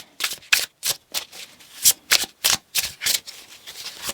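A tarot deck is shuffled by hand, a run of about a dozen short, crisp riffling bursts in quick succession, close and clear, with no talking.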